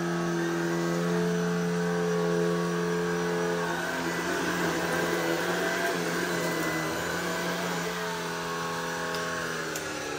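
A newly unboxed household vacuum cleaner runs with a loud, steady motor drone and whine that shifts slightly in pitch, close by and alone.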